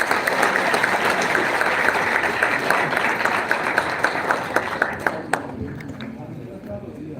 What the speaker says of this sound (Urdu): تالیاں ہونی چاہیے بہت ساری۔